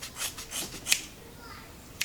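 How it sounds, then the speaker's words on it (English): Scissors snip and rub through synthetic braiding hair in a few close, crisp strokes, followed by a short pause and one more sharp cut, with quiet talk nearby. "So I'm going to take the scissors and I'm going to"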